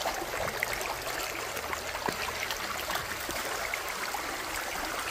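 Water poured from a bucket rushes through a gold prospecting sluice outdoors in Indiana, a steady, close gurgling stream with small splashes and no talking.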